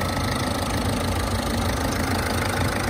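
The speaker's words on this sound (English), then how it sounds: "You can see the engine is running, and it's running very sweetly." Peugeot Partner 850 Professional van engine idling with the bonnet open, a steady, even hum with broadband mechanical noise, close and continuous with no speech.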